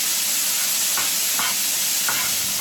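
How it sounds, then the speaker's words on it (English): Chopped onion and garlic caramelize in hot oil in a pan for Philly cheesesteak filling, giving a loud, even sizzle with a few soft stirring scrapes. "I'm gonna add the chopped onion, the garlic, and just cook it until it's nice and caramelized."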